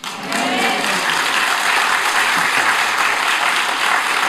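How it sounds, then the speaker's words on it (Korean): A church congregation breaks into sustained applause after a sermon, a dense, even clapping that holds steady and fills the room from start to finish. "아멘하고 박수 한번 주세요."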